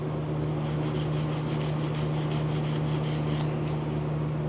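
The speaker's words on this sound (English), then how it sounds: "Make sure your brush is designated stainless steel" Wire brush scrubbing a stainless steel pipe weld on Type 316 pipe, a steady continuous rasping that sits close and fairly loud over a constant low hum, with no talking.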